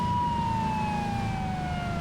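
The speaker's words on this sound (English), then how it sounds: "now that I have the sirens on" A steady wailing police siren in the video game Saints Row sweeps slowly downward over a constant low engine rumble, loud and continuous with no talking.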